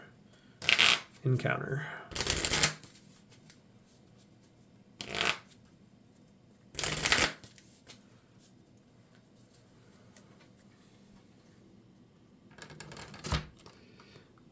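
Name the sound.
shuffling a deck of cards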